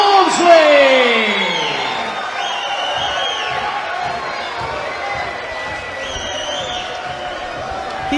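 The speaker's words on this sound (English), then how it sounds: "Huge delight from this big crowd here" A large crowd roars and cheers at a Grimsby boxing event after a local fighter is announced the winner, with a sustained wash of shouts and whoops under loud arena announcements.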